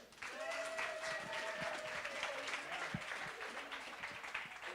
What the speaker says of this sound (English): A fun round of applause for Huntley.